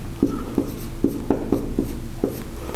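Chalk or pen strokes on a board during a university engineering lecture, a steady series of short, firm taps and scratches at a moderate pace, close and clear with no talk over them.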